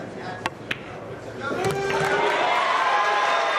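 At a Mosconi Cup pool match, two sharp ball clicks sound in a quiet hall, then the crowd surges into loud, sustained cheering and applause, with commentators talking over it.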